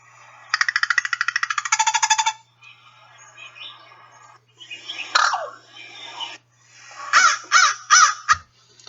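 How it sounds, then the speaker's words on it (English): An American crow produces a fast, throaty rattle close by, followed by scattered softer calls and a few loud harsh caws near the end, with no talking. "The species can even produce a throaty rattle."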